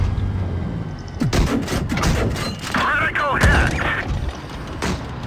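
Tank gunfire and heavy thuds from the WoT Blitz video game, several booming shots and mechanical clanks in quick succession, loud and close, with someone talking over them.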